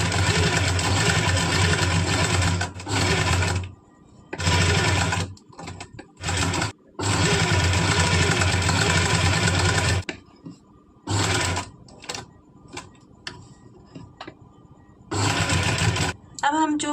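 A sewing machine stitches a kurti collar with buckram in long loud steady bursts of whirring, stopping and starting, with short pauses and a few brief clicks between runs.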